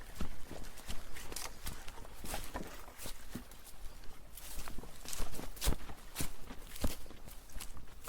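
Footsteps walk back through a small gate at Backsbottom Farm, Roeburndale, a steady run of close, crunching steps on rough ground outdoors with faint background noise.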